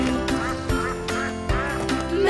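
Duck quacks sung over a French children's nursery song about little ducks, repeated calls recurring in a steady rhythm over continuous music.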